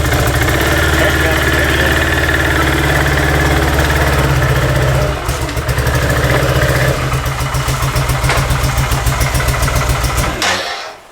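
Can-Am Outlander ATV, a 650 twin running on only one cylinder, idles loud and close with a rough, uneven thrum that pulses faster in the second half and then cuts off at the end.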